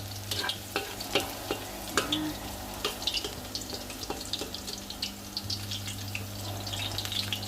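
Garlic frying in a pan for a sautéed mung bean stew, a steady low sizzle broken by frequent sharp clinks and scraping taps of a utensil stirring against the pan, close up and without speech.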